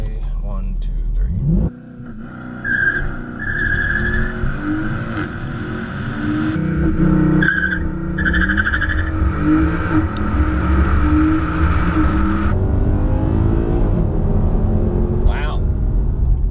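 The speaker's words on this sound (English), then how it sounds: "A car like this is for someone who really enjoys like the brute sound of a V8." A Mercedes C63 AMG's V8 engine revs and accelerates hard, its deep roar climbing in pitch and staying loud, with voices briefly over it.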